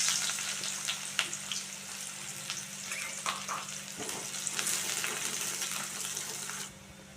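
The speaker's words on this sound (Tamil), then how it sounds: "எண்ணெய் சூடாயிருச்சு. வெட்டி வச்சுருக்க வெங்காயத்தை சேர்த்துக்கலாம்." Chopped onions frying in a pan of hot oil while making spicy crab fry, a steady close sizzle with light crackles and occasional stirring scrapes, fading slightly at the end.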